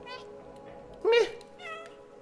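A cat in the video game Stray lets out one short, clear meow in the middle, with soft game ambience and faint tones before and after it.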